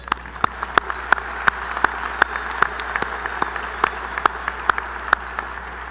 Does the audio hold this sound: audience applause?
yes